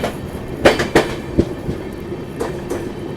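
The Marathwada Sampark Kranti Express runs along the rails on a cold, foggy journey, its wheels beating a rhythm of sharp clacks over a steady rumble from inside the coach.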